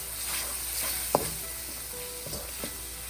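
Spices and salt sautéing in a pan over low to medium flame for chicken tikka masala, a steady soft sizzle throughout with a few sharp clinks of a stirring utensil against the pan.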